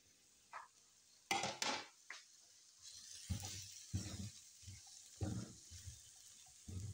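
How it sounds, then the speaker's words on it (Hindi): Julienned capsicum and green chillies being fried in a pan, with soft sizzling and several spatula scrapes and stirs in uneven bursts, close and quiet, no talking. "बस इनको फ्राई करते हैं 1 से 2 मिनट मज़ीद।"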